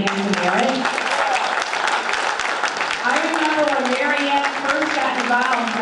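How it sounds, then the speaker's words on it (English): A dinner crowd at a Republican Lincoln Day event applauds with sustained clapping, while voices cheer and talk loudly over the applause throughout. "Can we give her a round of applause, Mary Ann Merritt?"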